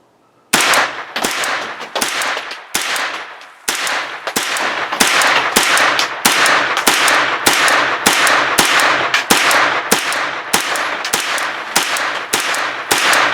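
Rapid gunfire from a KUSA KR9 9mm carbine emptying its last magazine: a long run of loud, sharp shots fired close and fast in a steady rhythm, with a brief pause early on.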